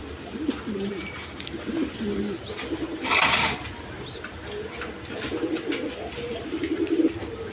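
Pigeons coo repeatedly in low, throaty murmurs close by, with a brief burst of wing flapping in the middle.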